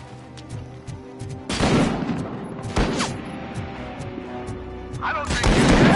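Sniper gunfire in the RoboCop Rogue City video game: three loud, sharp shot bursts about a second apart, each with a rough crashing tail, over a steady background hum.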